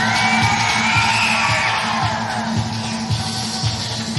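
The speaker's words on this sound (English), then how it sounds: "So I can hear the crowd getting a bit of pump for the Abu Dhabi-based Brazilian fighter" A crowd at a UAE Warriors MMA event whoops and cheers for Brazilian fighter Talison Soares, fighting out of Abu Dhabi, as he enters the cage, loud and sustained with yells over a booming arena public-address backdrop.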